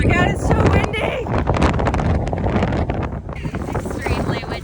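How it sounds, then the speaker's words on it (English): Strong gusts batter the microphone outdoors in a windy canyon, a constant loud rumbling buffet that roars throughout, with people talking under it. "it's so windy!"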